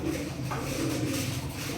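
Pigeons coo softly and steadily as they drink water against a low, continuous background rumble, with no voices.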